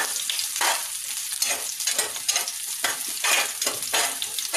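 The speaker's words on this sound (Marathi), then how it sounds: "एक कांदा बारीक चिरलेला, एक दालचिनीचं पान, एक वेलची, एक लवंग, दोन काळ्या मिऱ्या घालून व्यवस्थित तेलामध्ये फ्राय करून घेऊया" Finely chopped onion fries in oil with a cinnamon leaf, cardamom, clove and black peppercorns for veg biryani, a close, bright crackling sizzle pulsing with repeated stirring strokes, loud and steady without talk.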